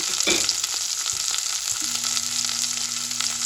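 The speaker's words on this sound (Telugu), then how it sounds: "ఈ పోపు అంతా మనం వేసాం కదా అది చక్కగా వేగుతుంది" Garlic, curry leaves, dried red chilies and green chilies sizzle and crackle in hot oil for red lentil dal, a steady close hiss with a few light clinks early on and a low hum joining partway through.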